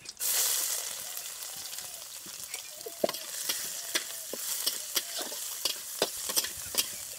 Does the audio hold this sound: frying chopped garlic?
yes